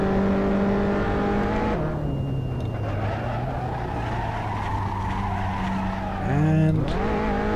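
A race car engine in Assetto Corsa drones loudly at full throttle, its pitch dropping at a gear change and then climbing steadily before another quick shift near the end, with faint tire noise underneath.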